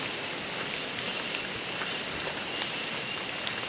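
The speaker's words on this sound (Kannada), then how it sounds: "ಈಗ ಹೆಂಗೋ ಮಳೆ ಬೇರೆ ಬರ್ತೈತೆ ಜೋರಾಗೆ" Heavy rain pours steadily on a hillside road near a railway tunnel viewpoint in Sakleshpura, a dense, even hiss that stays constant and fairly loud throughout, with no voices.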